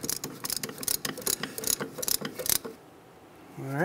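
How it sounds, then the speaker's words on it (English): Piston compression tool pressing back the rear brake caliper piston on a 2007-2015 Mazda CX-9, a rapid series of close mechanical ratcheting clicks for over two seconds, then quiet with a faint rising squeak at the end. "So we have a piston compression tool here."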